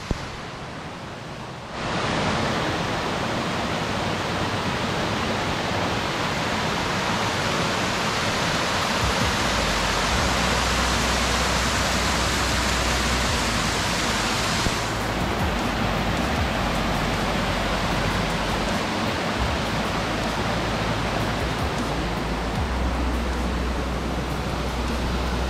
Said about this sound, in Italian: Ecco la cascata del Pissandro vista da sotto